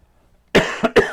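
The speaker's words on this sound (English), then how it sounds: "That was a cough." A person coughs loudly and close up, three quick harsh bursts in about half a second after near silence, with no speech.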